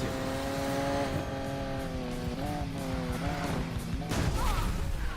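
A car in the Need for Speed Payback racing game drives with a steady engine drone, then slams into rocks with a loud crash burst near the end.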